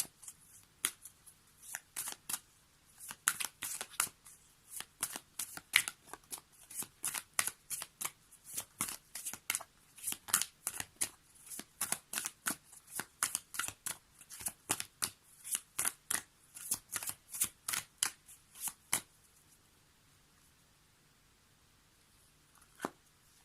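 Oracle cards being shuffled for a tarot-style reading, a long run of crisp, rapid riffling bursts close to the mic, repeating steadily for most of the clip before stopping into near silence.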